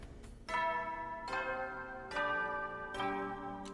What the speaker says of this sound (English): Even ding dong ding bong.